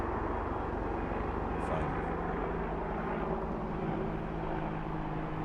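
An airplane flies overhead, a steady broadband engine roar throughout with voices talking over it.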